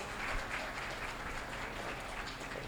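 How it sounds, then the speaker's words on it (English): An audience claps steadily throughout at a tenth anniversary celebration event, a dense, even wash of applause at moderate volume with no break. "Can we have a thunder round of applause to both these people?"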